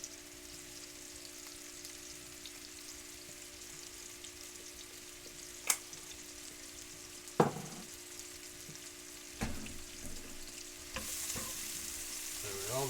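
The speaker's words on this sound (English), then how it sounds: "They're nice and sizzling now." Jägerschnitzel cutlets fry in a pan, a faint steady sizzle with occasional sharp scrapes and clacks of stirring, a low electrical hum underneath and the sizzle growing brighter toward the end.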